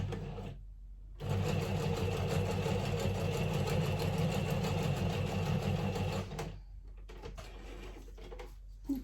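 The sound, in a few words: sewing machine stitching zigzag line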